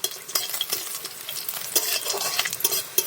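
A little oil heats in a pan for a winter-vegetable small-fish chorchori while a spoon stirs it, producing repeated sharp scraping clicks at an irregular pace over a faint sizzle, close and without speech.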